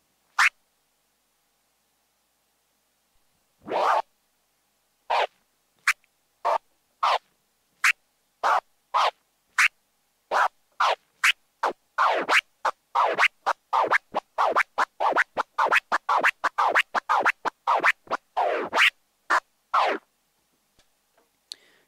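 A DJ performs prism scratches on a turntable with the crossfader, sharp chopped record cuts in quick bursts that grow denser and faster, loud and close with silent gaps and no talking.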